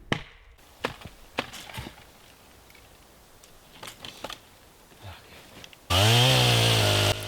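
A chainsaw roars loudly into a fallen log during land clearing on a homestead, starting abruptly after scattered knocks and thuds of wood handling, then holding a steady high-revving cut.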